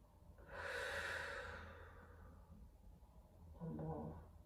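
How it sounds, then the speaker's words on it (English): Deep, slow breathing during a judo mobility stretch, one long audible exhale followed after a pause by a shorter breath, close and fairly soft, no talk. "Three more breaths."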